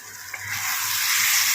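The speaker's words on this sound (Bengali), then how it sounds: "এটাকে আমি এখন মশলার সঙ্গে খুব ভালোভাবে কষিয়ে নেব" Shrimp sautéing with spices in a pan, a steady bright sizzle that builds and holds loud and close, with no talk over it.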